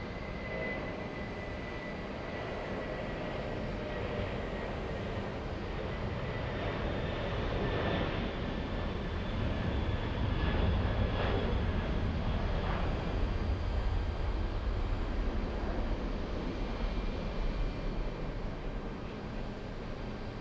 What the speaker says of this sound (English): 747 on the roll